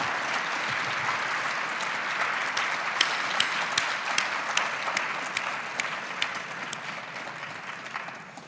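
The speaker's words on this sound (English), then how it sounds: "I think they deserve a massive round of applause." A luncheon audience at a satellite industry awards event applauds the nominees, a dense, even wash of clapping with a few sharper individual claps standing out, sustained throughout.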